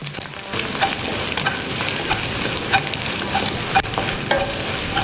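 Onions frying for nasi goreng, a close, busy sizzle with repeated clatters of stirring and scraping in the pan throughout, no voices.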